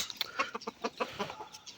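Farm chickens, a hen with a rooster nearby, clucking in quick, uneven bursts of short calls close to the listener, with no talk over them.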